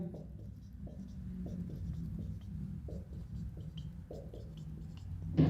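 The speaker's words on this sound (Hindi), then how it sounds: "देखो 194 सभी के आगे लिख दिया" Marker or chalk writing on a classroom board, a rhythmic series of short scratchy strokes repeating at a steady pace, fairly close, with faint room noise beneath.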